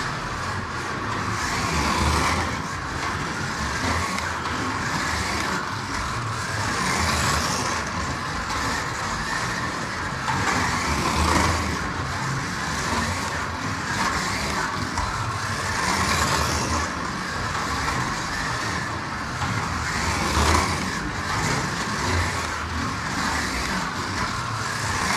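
Electric slot cars racing laps on a track, Autobianchi A112 models with front-wheel and rear-wheel drive, a continuous loud whirring motor whine rising and falling as the cars circle, with no talking.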